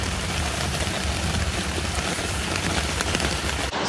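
Rain drums steadily on a tent at the East Coast Park campsite in Singapore, a close, dense patter that stays even throughout, then breaks off in a brief bump at the end.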